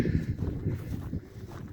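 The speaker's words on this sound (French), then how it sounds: "Par contre, il y a un peu de vent," Wind blows across the castle ruins, a continuous low rumble of buffeting gusts hitting the microphone up close, with no other sounds standing out.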